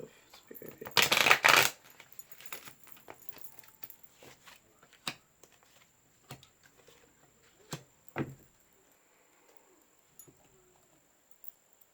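A short burst of tarot cards being riffled and shuffled, followed by quieter taps and soft handling sounds in a quiet room.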